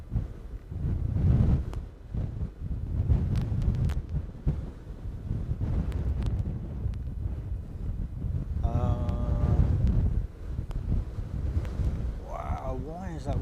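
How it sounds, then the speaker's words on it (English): Strong wind gusts buffet the microphone at an airport, a loud, rumbling roar that rises and falls throughout, with a voice talking over it. "Wow, why is that wind picking up now?"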